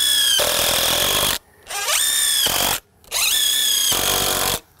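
A screw gun drives screws into wood during shed building, whining loudly in three long bursts with short pauses between, each burst rising in pitch as the motor spins up.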